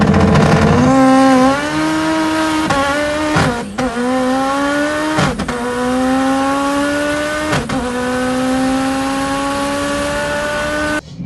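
A converted car accelerates hard, its engine pitch climbing loudly and repeatedly with abrupt breaks at each upshift through the gears, running close and alone without speech.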